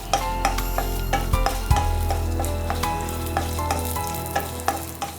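Small dry red chillies crackle and sizzle in hot coconut oil in a pan, a steady close fry punctuated by sharp metallic scrapes of a stirring spoon.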